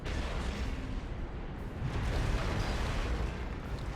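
Dense, continuous rumbling booms of heavy cannon fire and explosions in Dawn of War 2 layered together, loud and unbroken throughout.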